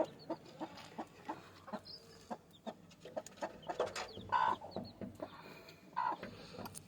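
Several black hens cluck in short, irregular bursts close by, with high peeping calls from chicks scattered between them.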